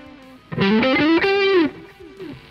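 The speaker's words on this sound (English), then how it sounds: "if I add the distortion" Electric guitar played through a NUX amp modeler with distortion added, a few sustained, gritty harmonic-rich notes sliding in pitch, loud and close, then decaying into a quieter tail.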